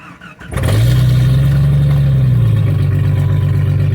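A straight-piped 1994 Jeep Grand Cherokee Laredo with the 4.0 inline-six cranks briefly on a cold start. It catches and roars into a loud, deep rev, then settles into a rough, steady rumble close by.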